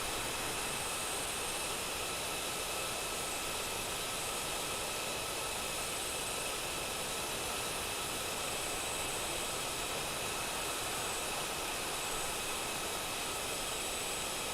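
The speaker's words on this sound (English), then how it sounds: "This is the Airbus A330 mod from Projects Megapack we're using right now." An Airbus A330 drones on in Microsoft Flight Simulator with a steady, unbroken jet engine hum and hiss, even in level throughout and without any voices.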